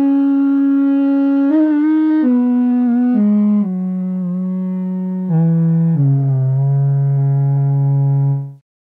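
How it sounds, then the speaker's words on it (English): A traditional Finnish birch bark trumpet plays dry with no effects, a loud, close, brassy tone moving through a short falling sequence of sustained notes over about nine seconds before it stops. "It is a traditional Finnish instrument made out of a birch bark."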